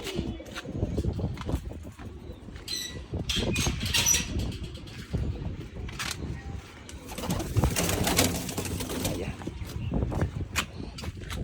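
Pigeons coo repeatedly nearby amid rustling and shuffling at a pigeon-flying contest in Dariyapur village, Punjab, with people talking intermittently over the birds.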